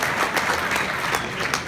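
Applause from a comedy audience at a Sons of Italy venue, a steady wash of many hands clapping close and fairly loud, with no talk over it.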